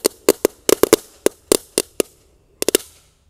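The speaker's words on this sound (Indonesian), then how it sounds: "Selanjutnya kita nyalakan mercon ayam jago berkokok ya." Two 'rooster crowing' firecrackers set off inside a hole in the ground burst in a rapid irregular string of sharp, loud cracks, about a dozen pops with short gaps and a final tight cluster.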